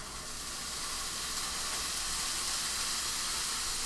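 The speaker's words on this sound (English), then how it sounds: "I'm sauteing the peppers and onions" Peppers and onions sauteing in hot oil give off a steady, dense sizzle, a close, continuous hiss that runs alone without pause.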